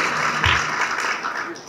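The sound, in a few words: applause from audience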